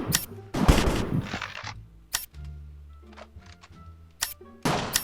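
Sharp bursts of gunfire in a Minecraft shooting game modeled on CS:GO crack out in quick clusters, then go quiet before a few more shots, loud and close with a low hum between.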